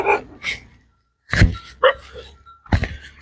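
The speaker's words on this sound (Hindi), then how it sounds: "वो कुत्ता मुझे देख के भौंक रहा है" A dog barks a few times in short separate bursts, fairly close, with pauses between them.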